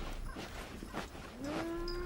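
Hungry cattle in deep winter snow, waiting for hay, give a single drawn-out moo that rises and holds steady toward the end, preceded by faint shuffling and ambient outdoor noise.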